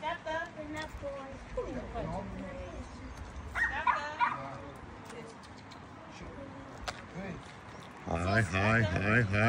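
Dogs yip and bark amid a noisy crowd of voices at a canine group formation training show, with whimpering calls and a burst of louder barking toward the end.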